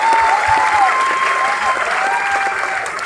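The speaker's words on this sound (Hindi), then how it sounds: "जोरदार ताली होनी चाहिए शिवानी के लिए" An audience bursts into a loud, steady round of applause for Shivani at a Vestige team meeting, a dense wash of clapping that holds for a few seconds with no voices over it.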